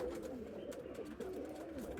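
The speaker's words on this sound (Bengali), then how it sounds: "এইগুলো পায়রাকে বলা হয় রাজা পায়রা যে পায়রাগুলো" A Giribaz king pigeon, a flying breed, coos softly up close in low, rolling murmurs that repeat over a quiet background.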